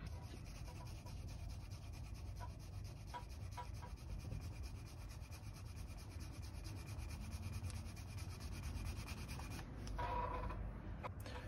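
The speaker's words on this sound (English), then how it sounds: "just with using 600 grit sandpaper, you can get a nice smooth edge" Close, steady rubbing of 600 grit sandpaper along a leather edge waxed with beeswax, a continuous soft abrasive hiss with faint periodic strokes and a few light knocks near the end.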